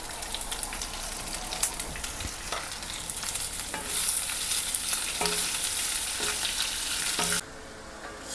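Peeled ridge gourd and its skins sautéing with rock salt in a pan, a loud steady sizzle with repeated scraping stirs, briefly cut off near the end; no talking.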